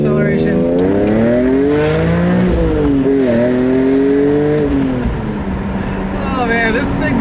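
Engine of a 2002 BMW M3 with a manual gearbox and a UUC exhaust, loud and close from inside, revving hard through the gears with rising pitch, a brief dip at each shift, then climbing again.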